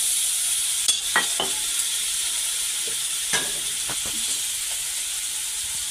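Fish frying in a spice paste of ground ginger, cumin and chili in a pan, a constant close sizzle and hiss broken by several sharp scraping stirs and light clinks, with no talking.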